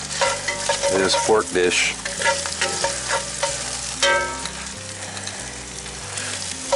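Diced apples frying in a hot cast iron pan, loud crackling sizzle with scraping and stirring clatter up close, while someone talks briefly over it.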